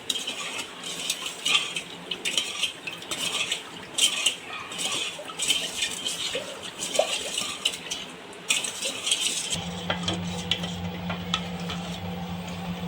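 A spoon stirs two cups of sugar in two cups of water in a pot for a mango gulab jamun syrup. Irregular close scraping and clinking taps are followed by a steady low hum once the stirring settles.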